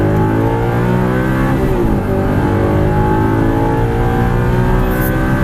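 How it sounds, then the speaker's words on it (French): A car re-accelerating out of a corner on a track, heard from inside as a loud, steady, layered engine drone with a slight pitch dip and rise. "On se dirige à droite et on réaccélère."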